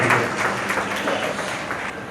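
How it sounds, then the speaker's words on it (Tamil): Audience at a thanksgiving event applauding, dense clapping at close range that is loudest at first and then holds steady, with no speech. "ஃபஸ்ட்டு பெரிய கைத்தட்டல்"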